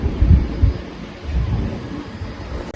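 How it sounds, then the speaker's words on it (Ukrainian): Strong, cold wind roars and buffets the microphone in low, rumbling gusts, with no voices. "нас просто такий вітер неймовірний сьогодні і холодний"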